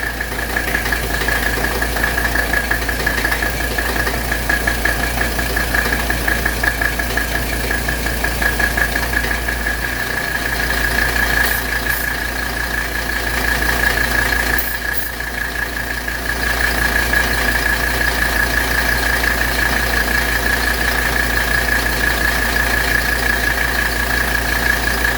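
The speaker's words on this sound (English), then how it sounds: "the compressor just kicked on and we're just sucking in this R134." 1985 Mercedes 300CD engine idling with the air conditioning compressor running while charging with R134, a steady loud mechanical drone with a constant whine, briefly dipping twice midway.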